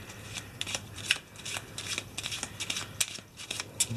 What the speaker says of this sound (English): Here's our spell deck. Just shuffle it over real quick.